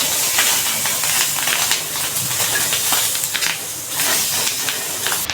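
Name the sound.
green chillies dry-roasting on a hot tawa without oil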